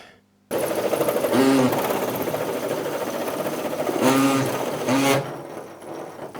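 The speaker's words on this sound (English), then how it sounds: "Going to drill the holes with this thing." A drill cuts round-cornered holes through the metal wall of a DIY van for a Dometic S4 window, a loud, steady grinding whir running almost the whole time with a few harsher bursts near the start and middle.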